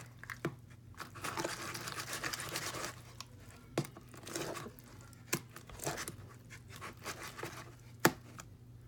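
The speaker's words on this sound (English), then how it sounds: "So, it should be getting easier to mix." Homemade slime being stirred and mixed, giving wet crackling, squelching and scraping with sharp clicks against the bowl, close and steady with a few louder pops.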